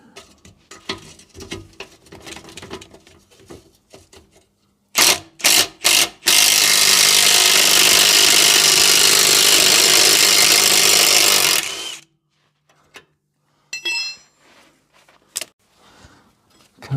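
Air impact gun working on exhaust bolts of a 1990 Toyota MR2 Mk2 SW20, a few short bursts followed by a loud sustained six-second rattling run, then quieter clanks and tool handling nearby.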